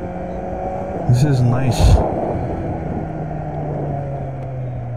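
A Kawasaki Z900 motorcycle on the move in first gear gives a short, rising engine rev over a constant engine and wind drone, with someone speaking briefly.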